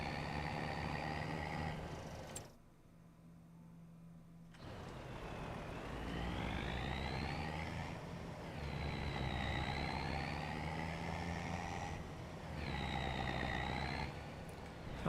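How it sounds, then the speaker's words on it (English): A heavy truck engine in Farming Simulator 25 on the Hutan Pantai map drones steadily with a rising and falling tone as it revs, briefly dropping out near the start before rumbling on continuously, with no talking. "Oh, I do prefer the sound of a proper truck."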